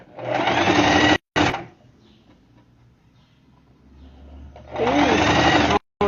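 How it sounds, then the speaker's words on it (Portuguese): A sewing machine runs close and loud as it stitches along the edge of a diaper bag, in two bursts of steady whirring separated by a quiet stretch with faint low handling noise. "E da costura na beiradinha."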